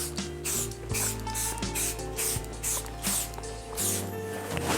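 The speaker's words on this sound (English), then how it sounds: "This setting spray is going to lock it in place." A mini bottle of Airbrush Flawless setting spray pumped in a quick series of close, soft hissing spritzes, about ten short bursts in an uneven rhythm over a low background hum.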